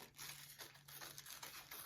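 Scissors snip through thin tissue paper, cutting it into small snowdrift shapes for a craft, giving a quiet, close crinkly rustle with short bursts of cutting and a faint steady hum beneath.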